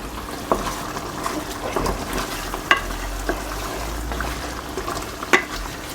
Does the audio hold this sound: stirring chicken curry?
yes